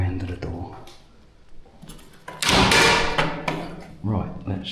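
An old door in an abandoned house is pushed open from the hinge side, giving a few knocks and a loud scraping creak, with a person talking around it.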